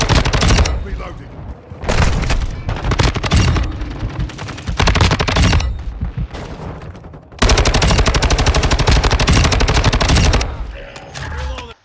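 Rapid automatic bursts from the STB-556 bullpup assault rifle in the game Modern Warfare II, loud and dense, in several sustained strings separated by short pauses.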